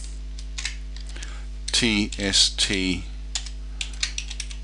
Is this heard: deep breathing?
no